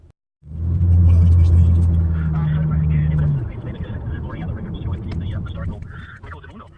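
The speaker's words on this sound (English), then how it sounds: "I actually like driving to work" A car engine rumbles in a deep, steady drone while driving, then gives way to rougher road and cabin noise.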